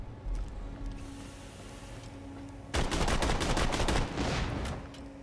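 A burst of rapid gunfire in Borderlands: The Pre-Sequel erupts partway through after a quieter stretch of background hum, loud and dense for over a second before tapering off.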